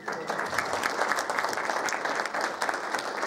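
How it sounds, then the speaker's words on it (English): An audience at a Main Street presentation in Ely gives a round of applause, a dense, steady clapping that stays loud and even from start to finish. "And a round of applause because this is a great person."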